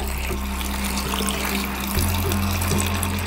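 Water pours steadily into a metal pressure cooker holding lentils, a constant close splashing rush with a low hum beneath it.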